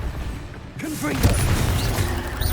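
A Confringo fire-blast spell explodes in Hogwarts Legacy, a sudden booming burst followed by a crackling, rumbling tail of debris and magical effects, loud and close, with short swooshing spell sounds.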